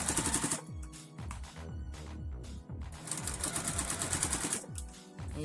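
A sewing machine stitches a fabric ruffle in rapid bursts, its needle clatter pausing briefly between runs, close and fairly quiet.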